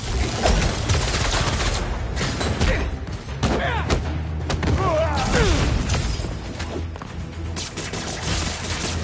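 Video game battle gunfire, dense bursts of shots and booming impacts running continuously and loud, with shouting voices mixed in throughout.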